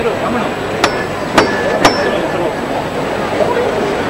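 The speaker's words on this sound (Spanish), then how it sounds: "ese sonido inconfundible del martillo" A foreman's hammer knocks three times on a Holy Week float at a Seville procession on Palm Sunday, sharp distinct raps about half a second apart over a loud, murmuring street crowd.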